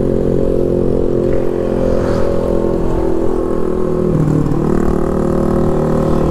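A Honda Beat scooter rides through a village street in Denpasar, Bali, in the morning. Its engine gives a continuous, close, droning hum under heavy wind buffeting, with no voices.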